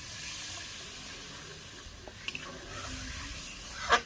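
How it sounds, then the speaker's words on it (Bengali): Water poured into cooked spice paste for a fish curry in a village kitchen brings up a soft, faint hiss and sizzle, with a light clink near the end. "আমি কিন্তু এখন পরিমাণ মতন জল দিয়ে দিচ্ছি।"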